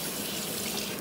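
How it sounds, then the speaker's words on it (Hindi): Water runs steadily from a household tap while hands are washed beneath it, a continuous close splashing hiss. "हाथ धो के हो गया।"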